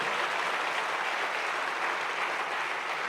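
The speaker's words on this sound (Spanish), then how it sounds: "Vamos a darle fuerte ese aplauso, iglesia, al Señor." A church congregation applauds during a sermon, a soft, uniform patter of many hands heard from a distance, steady and fairly faint across the whole short stretch.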